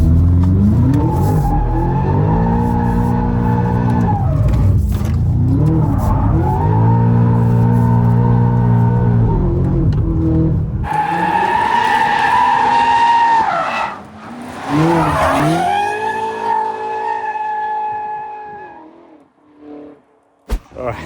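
A loud BMW M5 G90 engine revs and drones while drifting on tight roads, its pitch rising and falling, with squealing tires in long skids; close by, no talking.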